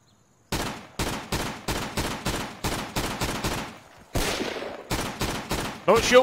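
Rapid gunfire in the first-person military shooter Insurgency, a sustained string of close, sharp rifle shots at an even rhythm, with a brief break and then more bursts.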